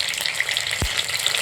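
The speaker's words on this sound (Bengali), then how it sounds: "দেখুন, আমার পটলগুলো কত সুন্দর করে ভাজা হচ্ছে" Pointed gourd (potol) pieces fry in a pan for a yogurt potol curry, making a steady, close crackling sizzle broken once by a brief soft thud.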